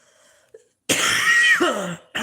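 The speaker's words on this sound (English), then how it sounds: "I think I've got this cough under control now" A single harsh cough or throat-clearing burst, close and loud, with a brief rough tail and a short pause before another sound starts.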